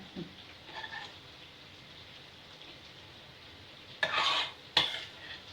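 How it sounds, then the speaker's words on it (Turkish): Soft sizzling of chopped eggplant frying in a pan with a few clinks of a utensil stirring, a louder scraping burst near the end. "Kalan patlıcanlarımı doğradım. Tavama attım. Bunlar da kızarıyor şimdi."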